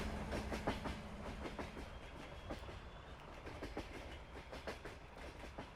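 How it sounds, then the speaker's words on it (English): A freight train in Farming Simulator 22 rumbles past with a steady rhythmic clickety-clack of wheels on rail joints, sustained and fairly close throughout, with no voices. "that freight train really knows how to make an entrance"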